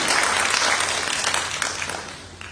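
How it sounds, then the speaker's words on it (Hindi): An audience at an award ceremony in Delhi claps warmly to welcome a guest onto the stage, a dense burst of applause that gradually thins toward the end. "तो जोरदार तालियों से उनका स्वागत कीजिए।"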